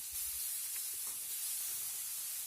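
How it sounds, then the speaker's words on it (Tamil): Chopped tomatoes sautéing in a pan for prawn gravy give a continuous hissing sizzle, steady and fairly close, with a few faint stirring knocks and no talking. "தக்காளி சேர்த்து நல்லா வதக்கணும்"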